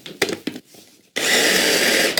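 A few short bursts from a blender pulsing sun-dried tomatoes and basil, then a loud sustained whirring run of the motor through the second half.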